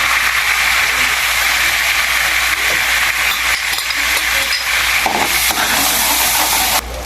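Garlic sizzling in melted butter in a pan while cooking a mixed seafood dish, a loud continuous frying hiss with occasional stirring scrapes and pops, no talking.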